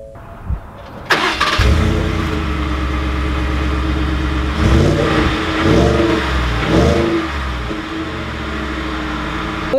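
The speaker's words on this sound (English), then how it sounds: "let's test out this new 5-liter V8 and see how it drives" A 2019 Ford F-150 with the 5.0-liter V8 starts up and accelerates hard, its loud deep engine note rising in several revving surges with no talking over it.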